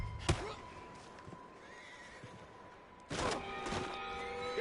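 A horse in the video game Red Dead Redemption 2 neighs twice: a short whinny early on, then a louder, longer neigh near the end, over quiet ambient game sound with faint thuds.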